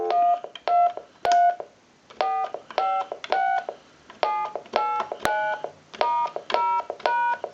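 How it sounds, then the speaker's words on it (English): Electronic keypad tones from a field telephone's speakerphone as numbers are dialed: a run of clear, evenly spaced beeps in short bursts, fairly loud with no talking. "We're going to dial our numbers again."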